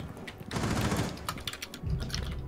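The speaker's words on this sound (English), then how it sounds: "He was shooting through the cabinet." Gunfire from a player shooting through a cabinet in the tactical shooter Rainbow Six Siege, heard as a dense, rapid burst of loud shots lasting a couple of seconds, with a brief lull before more fire.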